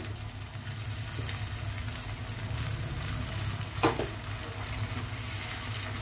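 Tomato pieces frying with onions in a pan for an egg masala gravy curry, a steady soft sizzle with a low hum underneath and one brief louder hiss partway through.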